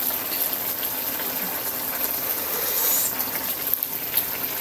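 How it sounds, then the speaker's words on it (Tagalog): A spoon is rinsed under a running kitchen tap, a steady, close gush of flowing water with faint clinks, continuing throughout without speech. "hugasan natin kutsara"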